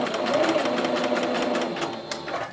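Sewing machine backstitching at the end of a seam, a continuous close, loud mechanical hum and rapid needle chatter throughout, easing slightly toward the end.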